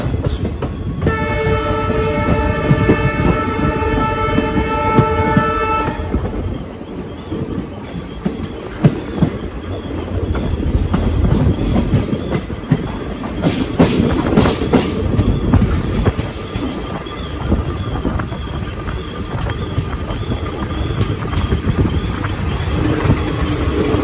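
The Sirsa Express runs on its rails, heard from inside an older coach: a loud train horn sounds for several seconds, then wheels rumble and clatter steadily over the track with brief squeals, with no voices.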